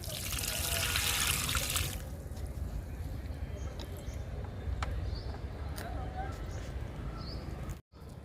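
Liquid fertilizer pours onto a potted garden plant, a close splashing gush for about two seconds that then fades to softer trickling and dribbling.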